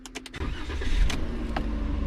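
Ram Promaster van engine cranking briefly and then catching, settling into a steady, moderately loud idle that runs to the end, heard close by with no talk.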